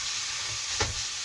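Ground beef and vegetables for shepherd's pie fry together in one pan, giving a steady, close sizzling hiss with a brief louder burst partway through; no voices are heard.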